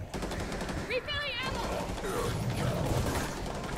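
Gunfire in the Rainbow Six Siege Outbreak game mode, a dense continuous stream of shots and mechanical rattling with a brief tonal game sound partway through, no speech.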